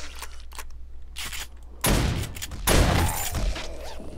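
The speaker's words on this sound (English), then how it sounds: "I know I said AK, but I got to the shotgun first." Shotgun blasts in 7 Days to Die, two loud close booming shots about a second apart with short ringing tails, following quieter clicks and shuffling.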